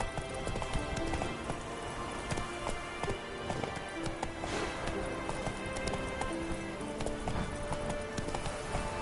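Roach, a horse in The Witcher 3, gallops with a steady, rapid clip-clop of hooves running continuously and close, with a brief whinny-like sound and game ambience behind.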